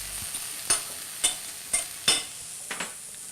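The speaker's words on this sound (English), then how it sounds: "we're going to mash about 1/3 of them with our fork to really open up those flavors" A fork mashes rinsed capers in a skillet, giving five or so sharp, distinct taps against the pan over a faint background sizzle, with no talking.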